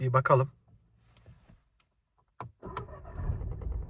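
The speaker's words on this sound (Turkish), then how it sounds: "aracı çalıştırırken herhangi bir sarsıntı vesaire var mıdır yok mudur?" A Volkswagen Golf 8 with the 1.0 TSI engine, at 150,000 km, starts after a short spoken remark: a brief crank, then a steady idle that grows fuller and continues close by.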